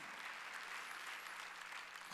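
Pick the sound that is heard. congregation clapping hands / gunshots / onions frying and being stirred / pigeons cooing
congregation clapping hands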